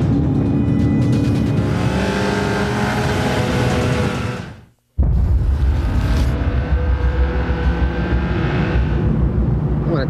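A car engine runs steadily and loudly with a road roar, cutting out briefly midway before resuming at full level.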